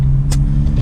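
The engine of a 2017 Chevrolet Camaro SS rumbles loudly and steadily from close by, a deep, constant drone with a brief higher burst partway through.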